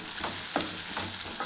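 Chopped onions and green chilies sauté in a pan for a Rajasthani fenugreek gravy, a steady close sizzle with soft stirring scrapes and no voices.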